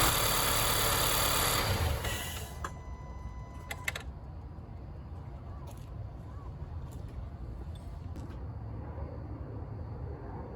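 A Honda Accord engine idles with a steady, close hum, then cuts out after a couple of seconds, leaving low background noise and a few faint clicks.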